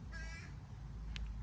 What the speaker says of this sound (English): That same big bird is just yapping away